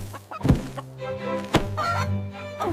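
A cartoon chicken clucks in a few loud, close bursts with a soft thunk among them, set against a farm scene.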